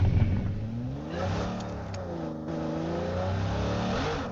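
A vehicle engine in PUBG on the Erangel map revs up and down in rising and falling sweeps, a continuous mid-pitched drone that lasts throughout with no voices.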